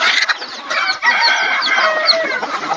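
Free-range village chickens cluck and chatter steadily while being fed green mustard leaves, a busy, fairly close flock calling continuously with overlapping clucks and short squawks and no talking.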